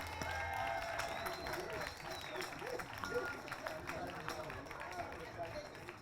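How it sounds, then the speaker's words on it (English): A round of applause from an outdoor crowd at a city birthday celebration for donors, scattered claps over crowd noise and some cheering, with speech audible underneath. "Let's give them another round of applause"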